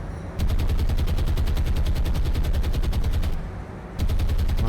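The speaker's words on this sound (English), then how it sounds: "They're strafing, they're strafing." Aircraft strafing in the War on the Sea naval combat game: dense, rapid machine-gun bursts rattle continuously and loudly, dip briefly, then resume at full force, with no talk.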